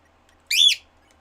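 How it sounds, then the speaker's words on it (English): A pet bird lets out one short, sharp, rising whistle, loud and close, with near silence before and after. "Yes, this is my bird."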